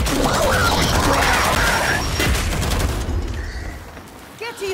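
A frag grenade blows up in a Gears 5 firefight, a loud crashing burst with debris amid rattling gunfire, fading into quieter battle noise with a brief voice near the end.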